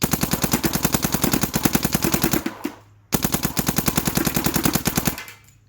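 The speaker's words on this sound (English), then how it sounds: "Maybe you can hear me shoot this bucket." A Dye M3+ paintball marker fires two long rapid-fire bursts at a bucket about 60 feet away, sharp evenly spaced pops loud and close, with a short pause between strings and no talking.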